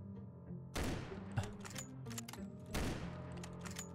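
Video game gunfire in a horror maze, two loud bursts of rapid shots with ringing tails between them, and no talking.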